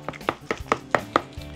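Cooked butternut squash being mashed with a wooden spoon, a series of about seven soft, wet thuds and squishes in a steady rhythm, close and fairly quiet with no talking.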